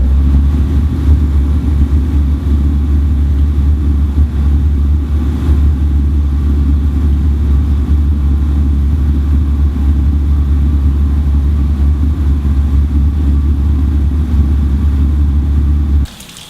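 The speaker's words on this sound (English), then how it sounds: "reconnect it, in a few seconds the burner will begin again." SG Series steam generator burner running as a loud, steady low-pitched roar and rumble that holds evenly before cutting off abruptly at the very end.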